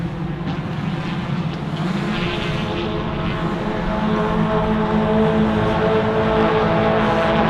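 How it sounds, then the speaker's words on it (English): A large pack of race cars roars around turn 3 of a circuit during a Track Attack Australia race, engines droning and overlapping in a loud, sustained wall of sound that builds slightly as they pass. "This huge pack of cars swarming around turn 3."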